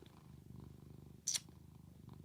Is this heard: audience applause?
no